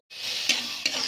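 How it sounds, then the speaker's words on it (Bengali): Egg tadka dal is poured into a hot pan, setting off a sudden loud sizzle that starts abruptly and continues steadily, with two sharp stirring scrapes within about a second. "এবার তারকার ডালটা দিয়ে দেবো।"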